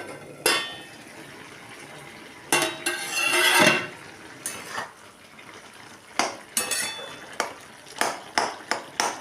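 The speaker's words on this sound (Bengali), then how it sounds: "আমি একটু ঢাকাটা তুলে একটু দেখি যে কত দূর হয়েছে।" A metal lid is lifted off a cooking pot of simmering potato and pumpkin curry, giving sharp clanks and scrapes with a brief louder rattle, followed by a run of quick, close metallic taps against the pot.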